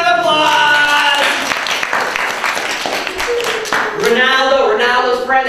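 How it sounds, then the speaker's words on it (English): An audience at a magic show applauds for a volunteer, a broad burst of clapping and cheers filling the room, with a voice talking over it and rising again near the end. "How about another big round of applause?"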